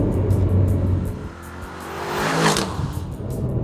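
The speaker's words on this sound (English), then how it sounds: "Aston Martin's made this engine sound even better than AMG does." An Aston Martin DB12 engine runs at speed with a steady deep drone, swelling into a louder rising rev, heard from inside the car with road roar beneath.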